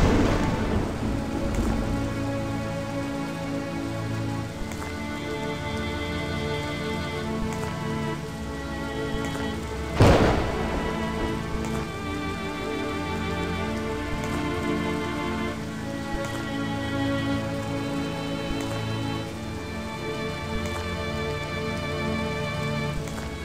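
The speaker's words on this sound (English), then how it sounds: "I remember the rain." Steady rain from the indie PC game I Remember The Rain pours throughout, thick and continuous, with a sharp thunderclap crashing near the middle before the downpour carries on at an even, fairly loud level.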